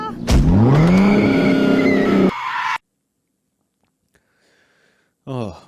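Car engine revving with tire squeal in a meme set in someone's mum's car, a loud rising roar for about two seconds, then a sudden cut to silence and a brief return at the end.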